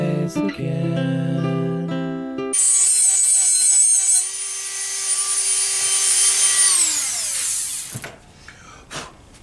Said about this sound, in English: This sanding drum works perfectly for that.